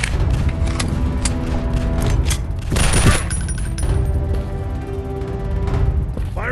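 Weapon reloading in the Android shooter Call of Gun Strike, with metallic clicks and clacks over a dense, steady game-audio bed of gunfire and effects.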